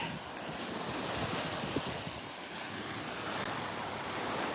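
Ocean surf washes steadily onto a beach on a bright day, a broad continuous rush of breaking waves with some wind buffeting the microphone, no voices.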